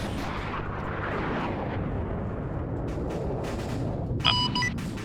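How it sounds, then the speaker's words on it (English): Airstrike explosions in a Vietnam War multiplayer combat game roll as a continuous heavy low rumble of booms, with a sharper crackling burst near the end, all loud and close with no voices. "Airstrike."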